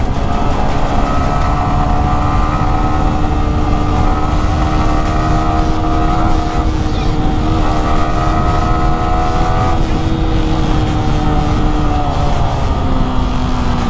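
A Yamaha R15 motorcycle rides at speed while overtaking, its engine droning loud and close with rising and falling pitch over heavy rushing wind noise.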